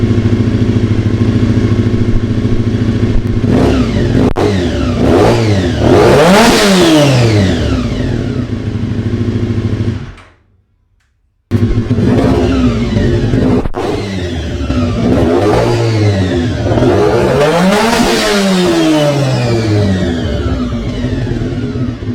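A Yamaha FJR1300 motorcycle engine revs hard and loud, climbing and falling through two long sweeps separated by a sudden brief dropout, with no talking.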